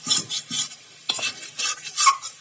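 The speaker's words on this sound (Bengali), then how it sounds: "এবার এটি নেড়ে চেড়ে ভালোভাবে কষিয়ে নেব।" Spice masala being stirred and fried in a pan for a spicy wild mushroom and mustard dish, rhythmic spoon strokes scraping through sizzling paste, close and steady with no talk.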